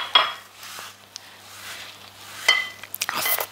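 Chocolate chunk cookie dough for a jumbo cookie being stirred in a bowl, with scraping and soft clinks of a utensil against the dish, a few louder knocks near the end, close by.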